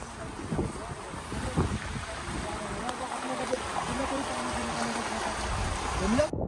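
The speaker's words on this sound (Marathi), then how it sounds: "इथून जसं वारं येईल तसं पाणी परत येत आहे" Wind gusting at the Naneghat reverse waterfall, blowing spray back upward, a continuous rough roar of rushing air and water with buffeting on the microphone.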